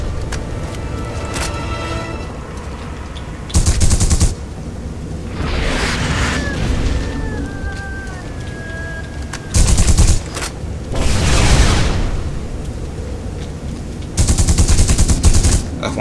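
Bursts of automatic gunfire from The Punisher video game crackle in loud, dense volleys, several separate salvos spaced across the stretch with quieter game ambience and whining effects between them.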